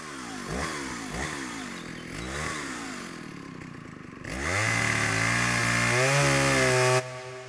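A chainsaw works during tree felling in a forest, its engine revving up and down in repeated surges before roaring at a sustained high pitch and cutting off abruptly, close and loud.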